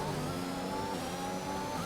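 An F1 car engine in the F1 2021 racing game during a wet qualifying session in Hungary, a steady high-pitched engine drone with shifting tones, held at moderate volume without talk.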